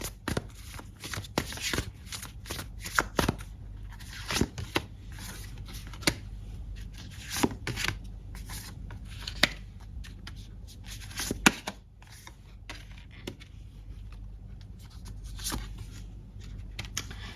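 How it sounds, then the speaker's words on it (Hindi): Tarot cards being shuffled and drawn, a run of crisp riffling flutters and sharp snaps at an irregular pace, close and clear against a quiet room with no talking. "कुछ कार्ड्स और निकालूंगी।"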